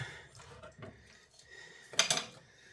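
Pork turned over in a pan at home, giving a brief clattering scrape of utensil against pan around the two-second mark amid quiet kitchen handling noises.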